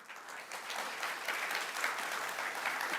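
An audience applauds after a special address at a security conference dialogue, a steady wash of many hands clapping at moderate distance, fairly soft and sustained without a break.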